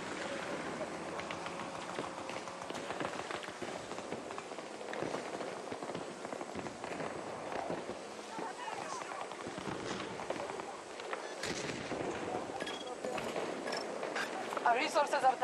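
Dense, continuous gunfire and explosions from a Battlefield 2042 match on PlayStation 5, with crackling shots layered throughout, and a voice talking over the noise.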